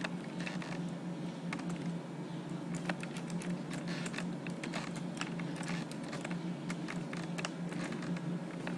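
Fast, steady typing on a computer keyboard with dense clicking keystrokes while Python code is entered, close and continuous with no talking.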